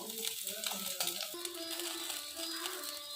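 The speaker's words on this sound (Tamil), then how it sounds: "ஒரு 7-8 பூண்டு பல்லை நல்லா தட்டி இந்த எண்ணெயில் போட்டிருக்கேன்" Seven or eight crushed garlic cloves fry in hot oil with a steady, close sizzle that runs unbroken for a few seconds, with no talking.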